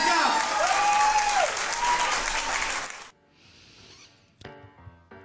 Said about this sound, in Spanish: Un aplauso grande para Javier